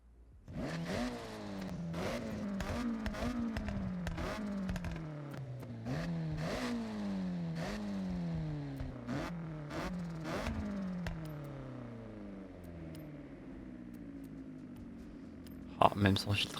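Honda CR-X in Forza Horizon, running without an air filter, revs up repeatedly in rising sweeps that drop back after each gear, a clattery buzzing engine note with a sharp burst near the end.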